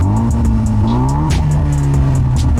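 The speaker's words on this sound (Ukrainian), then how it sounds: "давайте його з відірваним вихлопом послухаємо" A BMW car engine with a torn-off exhaust revs loudly and close with a raw, rattling exhaust note, pitch rising and falling as the throttle is worked.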